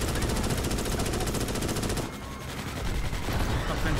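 Sustained rapid automatic gunfire from the player's weapon in Starship Troopers: Extermination, loud and continuous with a brief dip in the middle before the burst resumes, no talk.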